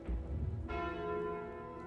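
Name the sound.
bell ringing when taking the Bell relic in video game Slay the Spire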